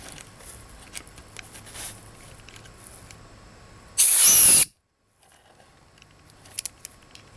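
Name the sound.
air compressor blowing out SYM Wolf 150 carburetor jets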